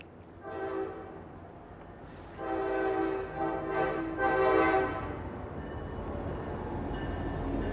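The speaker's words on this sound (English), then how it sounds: "Okay, Phoebe, here comes the train" A train rumbles past on nearby tracks with a loud, swelling roar and rattling of cars that builds and holds, steady and close, with no talking.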